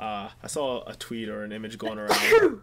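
One sharp, close sneeze bursts out at the end, right after a person's casual conversational talk in an indoor podcast-style chat.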